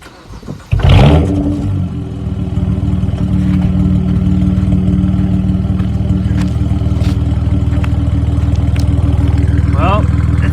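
A BMW E92 335i with a six-speed manual and straight pipes cranks briefly, catches with a loud burst, then settles into a steady, deep rumbling idle close by for several seconds.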